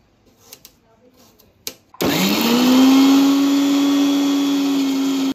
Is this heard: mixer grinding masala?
yes